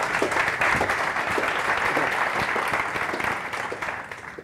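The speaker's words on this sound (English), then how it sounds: "Big applause to him." Dense, loud applause from an audience at a marketing-effectiveness event fills the room as a steady wash of many hands clapping, easing slightly near the end.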